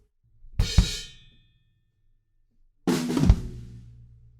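Two brief drum fills, each a few quick hits with a decaying cymbal ring, separated by a silent gap, close and moderately loud.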